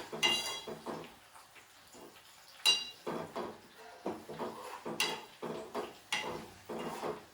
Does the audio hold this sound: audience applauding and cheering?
no